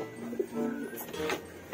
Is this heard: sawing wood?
no